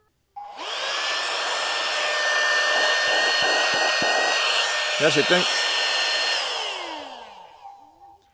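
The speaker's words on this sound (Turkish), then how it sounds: "Gerçekten güçlü bir şarjlı süpürge ve çok işe yarıyor." A cordless handheld vacuum switches on with a high, steady whine, runs loudly for several seconds with a brief rattle midway, then winds down.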